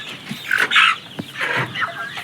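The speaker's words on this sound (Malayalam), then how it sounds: "അപ്പം നമ്മുടെ കോഴിക്കുഞ്ഞുങ്ങൾ ഇതാട്ടോ, ഇത് പൂവനും പെടയൊക്കെ മിക്സ് ആട്ടോ" A mixed flock of young Gramasree chickens, roosters and hens, clucks and squawks up close in a busy run of overlapping, uneven calls.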